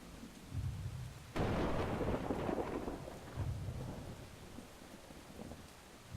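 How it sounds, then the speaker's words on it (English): A thunderstorm in the video game Brothers: A Tale of Two Sons: a sudden loud thunderclap rumbles and fades over steady falling rain, with softer rolling rumbles after, and no voices. "Thunderstorms are never a good sign in my opinion."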